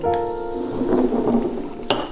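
Mugs of hot chocolate clink together in a toast, giving a few bright, close clinks and rattles, the loudest near the end.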